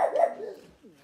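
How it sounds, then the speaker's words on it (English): A dog barks a couple of times in the background of a wood-carving session, the yaps fairly close and loud at first, then tapering off within about a second. "so I apologize for the crazy dog barking in the background."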